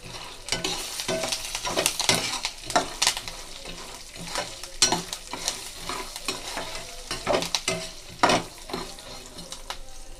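Spices for a puffed rice masala mix are stirred and fried in a pan, giving a continuous sizzle broken by repeated scraping and clinking strokes in an irregular rhythm, close and clear with no talking.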